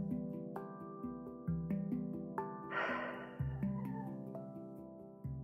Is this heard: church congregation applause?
no